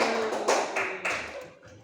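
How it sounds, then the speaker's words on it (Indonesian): Brief classroom applause for a student group, a few quick sharp claps close by that fade out within a couple of seconds. "Tepuk tangan dulu untuk kelompok 1"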